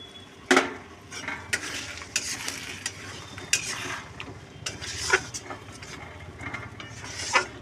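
A paste of cashews, melon seeds, raisins, tomato and onion sizzles in a pan while a utensil stirs and scrapes it in irregular bursts, with occasional sharp clinks against the metal.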